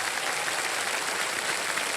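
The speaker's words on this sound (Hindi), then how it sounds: "जोरदार तालियां बज जाएं।" Studio audience on the KBC quiz show set clapping loudly and steadily, a dense sustained wash of applause with no pauses.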